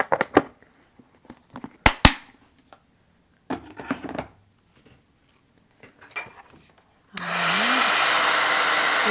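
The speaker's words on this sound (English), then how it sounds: "Let this heat up a little bit away from my project, and then I'll bring it over." Heat tool for embossing powder switching on after some light clatter and handling noises, then blowing with a loud, steady rushing whoosh and a low rising whine as it warms up.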